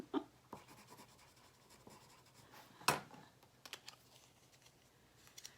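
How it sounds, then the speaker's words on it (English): Quiet scratching of handwriting on paper, soft pen strokes with one sharper tap midway and scattered scribbles toward the end, faint and close in a still room. "This time I'll write Brenda and not sprinkled."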